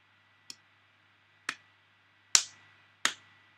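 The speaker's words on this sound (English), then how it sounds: "Clap." Four isolated sharp claps or snaps, spaced about a second apart and growing slightly louder, close to a quiet microphone against a faint low hum, with no talking.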